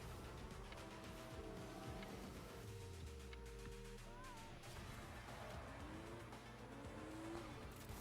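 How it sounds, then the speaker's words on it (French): Cars race in a console video game trailer, engines revving and sweeping past with pitch shifts and tyre squeal, all under dense music and effects. "Ouais, des bagnoles en tout cas, donc sûrement un jeu de bagnole."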